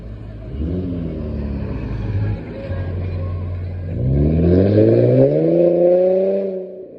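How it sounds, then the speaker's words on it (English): A loud car engine revving, with rising harmonic whine, held steady, then surging louder and climbing in pitch before fading near the end. "Loud ass car."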